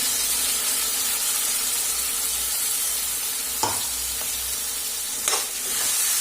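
Tomato mixture being stirred into a sizzling curry in a pan, a continuous hiss of frying with a couple of brief scraping stirs and clinks standing out.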